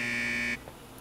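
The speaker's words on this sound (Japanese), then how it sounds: "この警報は？" A loud, steady electronic buzzer-like alarm from the Dreamcast game Sakura Wars 2 holds a single harsh tone for about half a second, then cuts off abruptly into quiet room tone.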